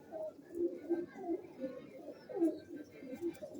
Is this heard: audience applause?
no